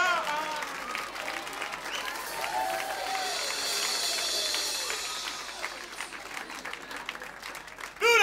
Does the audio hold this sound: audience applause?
yes